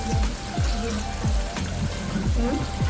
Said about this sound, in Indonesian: Ini sambil kita goreng ikan